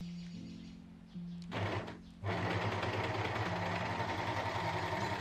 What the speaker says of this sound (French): utilisez votre machine à coudre normale avec un point de surjet ou un point zigzag